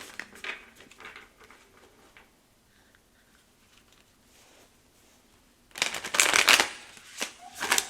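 Tarot cards being shuffled, with soft rustling at first, then a loud, close burst of riffling and slapping card noise near the end.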